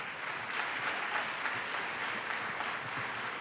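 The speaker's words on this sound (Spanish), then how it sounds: "Póngase en pie, reciba la ovación de la iglesia." A church congregation claps steadily and evenly, a dense wash of applause filling the space for a few seconds with no voices standing out.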